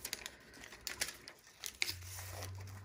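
Stick-on embroidery stabilizer having its backing peeled away by hand, a close, soft crinkling and tearing rustle in uneven bursts, ending with a brief sharper rip.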